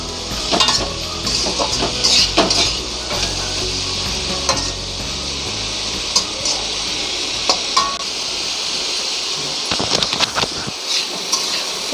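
Potatoes fry uncovered in a pan with a steady sizzle, while a utensil scrapes and stirs them in irregular strokes close at hand.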